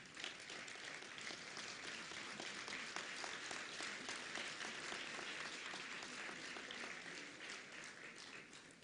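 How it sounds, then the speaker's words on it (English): Sustained applause from a large graduation ceremony audience, dense overlapping claps at an even level throughout, heard from a distance. "you can also give them a round of applause"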